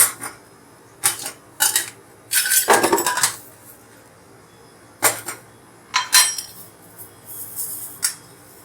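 Tea leaves dry-roasting in an iron kadhai, a metal spatula scraping and clattering against the wok in sharp, irregular bursts with quiet gaps between.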